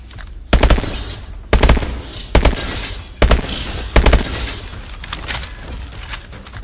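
Gunfire in Call of Duty Advanced Warfare: five loud, sharp bursts of shots at roughly one-second intervals, each with a crackling tail, followed by quieter scattered shots, no talking.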